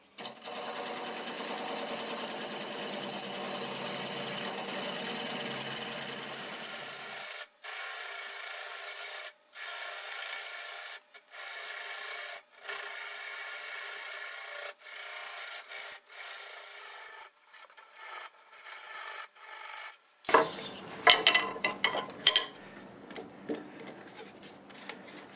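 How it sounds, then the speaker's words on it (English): A freshly sharpened half-inch bowl gouge cuts Siberian elm spinning on a lathe at about 600 RPM, a continuous scraping hiss broken by brief pauses and ending in rougher, choppier cuts. "So I've got a freshly sharpened 1/2-inch bowl gouge,"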